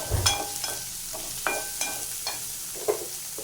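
Small onions and green chili sautéing in a pan for achinga payar thoran, a soft sizzle broken by several distinct spatula scrapes and taps spaced about half a second apart.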